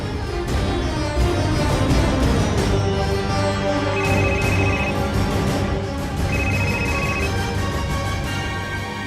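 A phone rings in short repeated electronic bursts over a loud, busy musical background, two separate ring patterns standing out.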